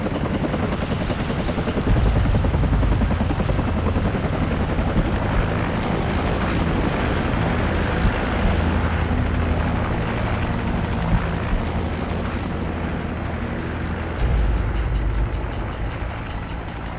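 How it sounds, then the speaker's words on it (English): A helicopter in the video game Modern Warfare drones with a loud, continuous rotor and engine roar, steady and close, with occasional low thumps rising beneath it and no voices heard. "Take out that helicopter."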